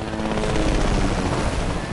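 A helicopter in a video game thrums with a loud, steady rotor roar that holds constant and close throughout, with no voices over it.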